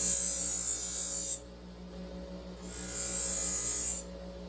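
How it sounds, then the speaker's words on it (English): A knife edge is lightly buffed on a belt grinder wheel, giving a steady motor hum with hissing contact that comes in two bursts separated by quieter running, close up with no talking. "I just want to lightly buff that burr off just like that"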